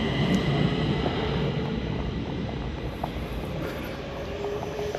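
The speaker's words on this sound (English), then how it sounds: "That's a northbound train that just left this station." A northbound metro train pulls away from Björkhagen station, a steady rumbling roar with rail hiss and faint clicks from the wheels, heard from nearby outdoors with no one talking.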